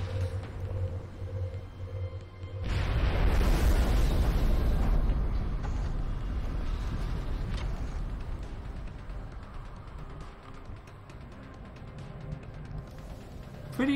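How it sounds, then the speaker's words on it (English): A plasma rocket in XCOM Enemy Within launches and detonates with a sudden loud broadband blast, then a long rumbling roar that slowly fades over several seconds, with a brief crackle at the end. "we fire the rocket. This is a plasma rocket"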